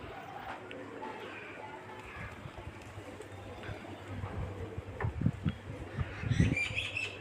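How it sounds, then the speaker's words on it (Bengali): Pigeons kept for sale coo and flutter in a busy enclosure, with rustling and wing flaps growing louder toward the end over a steady low hum. "পায়রাগুলো দূর দূর করে অবশ্যই ভিডিওটা দেখেন"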